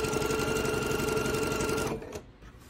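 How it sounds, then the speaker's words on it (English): A sewing machine stitches quilt pieces in a steady, close mechanical whir for about two seconds, then stops, leaving soft handling noise. "And continue to sew."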